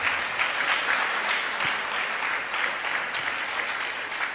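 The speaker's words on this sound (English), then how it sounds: "Let's give a big round of applause." A temple audience at a Sunday feast applauds the cooks, steady dense clapping from many hands that holds evenly throughout at moderate level.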